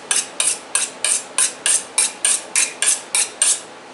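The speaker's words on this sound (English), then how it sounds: "Now, take my Victorinox butcher's steel, and I'll just take the little burrs off." Kitchen knives drawn along a Victorinox butcher's steel to knock off burrs, a run of eleven bright metallic swipes at an even, brisk pace, close by with no voices.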